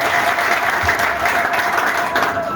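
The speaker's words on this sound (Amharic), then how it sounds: "አጨብጭቡ ለጌታ ቃል።" A church congregation claps together in sustained, dense applause, loud and close, with a faint steady tone running beneath the clapping.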